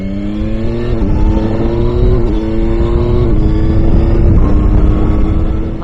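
Yamaha Tracer 9GT triple-cylinder motorcycle engine revving loudly and continuously up close, its pitch climbing and dropping back in steps as gears change.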